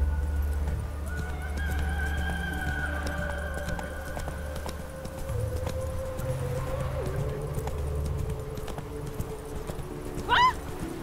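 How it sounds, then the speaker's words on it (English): Horse hooves clip-clop at a steady pace through The Witcher 3, over a low droning game soundtrack, with a brief whinny near the end. "Whoa there, Roach."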